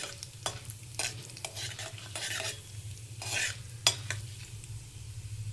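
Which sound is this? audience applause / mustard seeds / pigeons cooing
mustard seeds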